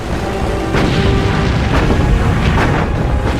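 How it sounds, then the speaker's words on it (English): A bomb detonating in the water during a naval battle, a sustained loud booming rumble with repeated crackling bursts layered through, dense and close throughout. "But its bomb detonates in the water, spewing killing shrapnel over exposed areas of the ship."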